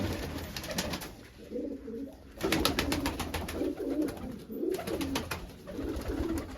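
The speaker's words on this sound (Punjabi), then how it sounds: "ਕਬੂਤਰ ਤੇ ਕਬੂਤਰੀ ਦੀ ਲੜਾਈ ਚੱਲ ਵੀ" A male and female pigeon coo repeatedly and close by as they fight, amid bursts of sharp flapping and scuffling noise.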